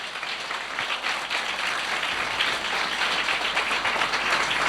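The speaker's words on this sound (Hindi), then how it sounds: "यीशु के लिए जोरदार तालियां।" Loud, dense applause from a congregation honouring Jesus during a Christian sermon program, a steady wash of many hands clapping that carries on without a break for the whole stretch.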